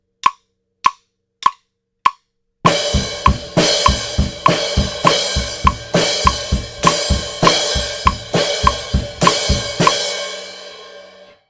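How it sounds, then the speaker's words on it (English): Four crisp stick clicks count in, then a drum kit plays a steady pattern of loud simultaneous snare and crash hits from the chorus, cymbals washing, ending in a fading ring. "you want to do a snare and crash at the same time"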